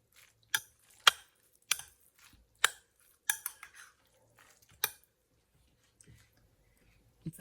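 Chopped shallot being mixed into a grated radish preparation, heard as scattered close clicks and soft scraping taps of a utensil against a bowl, irregularly spaced with quiet gaps, and no talking.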